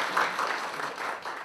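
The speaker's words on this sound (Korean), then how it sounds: "저희 한경환 교수님께 다시 한번 큰 박수 부탁드립니다." Attendees at a university graduate school academic symposium give a professor a short round of applause: a thick, steady patter of many hands clapping indoors, with no speech.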